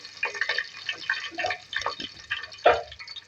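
Chopped green chillies crackle and sizzle as they hit hot mustard oil over a low flame, with cumin seeds alongside; short spitting bursts and drips sound close up, with faint talk now and then.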